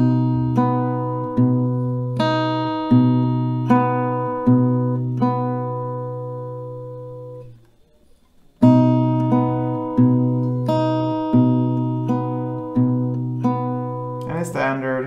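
An acoustic guitar slowly picks the melody of a song, single notes plucked one by one at an even unhurried pace with a brief pause midway, close and clear with no talk.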